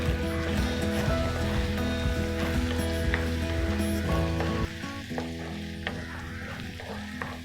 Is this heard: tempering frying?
yes